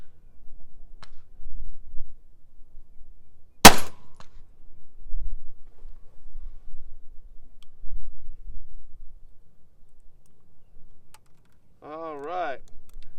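An original Colt 1849 Pocket Model cap-and-ball revolver fires a single sharp, loud shot, followed by quiet handling clicks and a brief voice.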